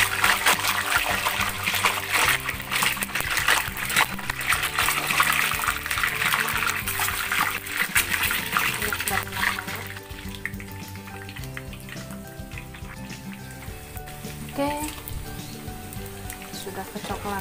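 Hard-boiled eggs fry in very hot oil with a steady, bright sizzle and crackle throughout, close and fairly even, while a voice talks over the cooking.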